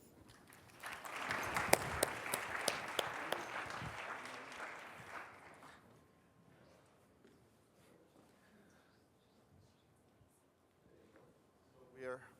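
An audience at a keynote conference applauds as a speaker is welcomed on stage. The steady clapping rises and holds for several seconds, then fades into quiet room sound before talking begins.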